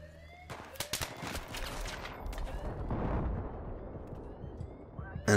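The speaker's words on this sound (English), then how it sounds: "I shoot the guy with the RPG" An RPG rocket launcher fires in Battlefield 3 amid a battlefield din of gunfire cracks, with a rumbling blast and swelling roar midway and more scattered shots, fairly loud.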